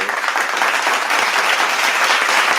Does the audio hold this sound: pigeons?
no